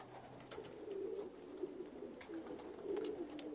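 Pigeons of mixed breeds, including English show types, coo in soft, repeated low rolling calls close by, with no voices over them.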